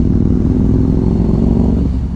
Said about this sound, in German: mit offener Klappe hört sich einfach sexy an. Es ist einfach der Sportster-Motor.